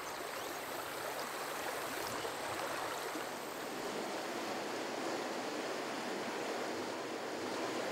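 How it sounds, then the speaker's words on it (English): Water rushes steadily through a mountain wadi stream in Arabia, making a constant broadband hiss and gurgle that stays even and close with no voices. "The constant water flow of these wadi streams stimulates a vibrant and highly diverse"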